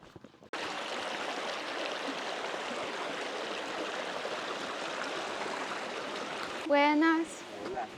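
Steady rushing water of a flowing river fills the scene, continuous and fairly close, with a brief voice rising over it near the end.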